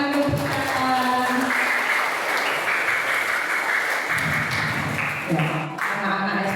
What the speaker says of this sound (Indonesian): Berikan tepuk tangan untuk teman.